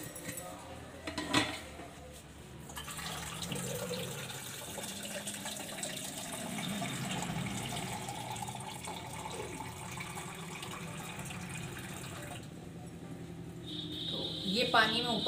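Drinking water runs from a household tap into a container for about fifteen seconds, a steady hissing flow with occasional clinks, while someone talks over it.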